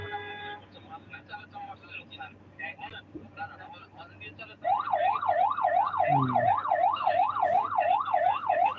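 A wailing ambulance siren rises and falls rapidly in a steady loop, loud and close, over rumbling traffic in a jam on a Gazipur road with auto-rickshaws, with horns and voices before it starts.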